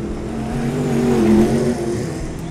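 Sprint car engines, about 650 horsepower in 1,200-pound cars, roar around a dirt track at the Ventura Fairgrounds, swelling loud as they pass close, then easing off slightly.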